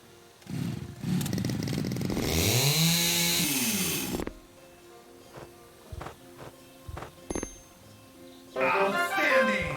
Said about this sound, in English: Use the chainsaw.